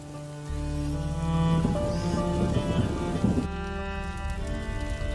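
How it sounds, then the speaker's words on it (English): Heavy rain falls in a dark medieval game world, a dense wash that swells with a rumble like distant thunder, then eases into a steadier patter. "would you mind if we get out of the rain, please?"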